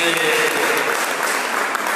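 Clapping fills a hall during an annual assembly in Atlanta, a brief even burst of many hands, and a faint murmur of voices may run underneath.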